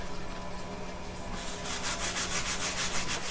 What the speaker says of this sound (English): now I use a bristle brush to clean up the work.